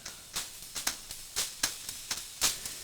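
A drum pattern processed through the Airwindows Nikola plugin at low voltage, with quiet, thin hits in an uneven rhythm, each one a short bright crack over faint background hiss.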